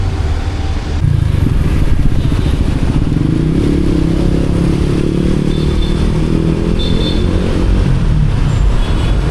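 A motorcycle engine on a road trip toward Nasugbu runs loud and steady throughout, with low rumbling and rattling clatter mixed with passing traffic noise.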